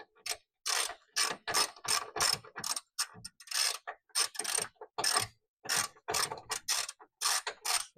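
Quick bursts of ratchet clicking as a wrench loosens the strut bar on a Nissan 350Z, strokes coming in an uneven rhythm with short pauses between, close and fairly loud.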